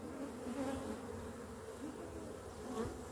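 Honeybees buzz inside a hive during a move to a new box, a dense, steady droning hum close up with slight swells in intensity.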